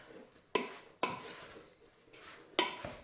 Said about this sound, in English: But coat it well, so give it a good mix